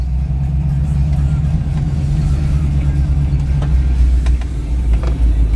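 A butternut yellow 1967 Chevrolet Camaro Rally Sport with a 468 cubic inch big block and Summit heads drives past, its deep engine rumble loud, close and continuous throughout.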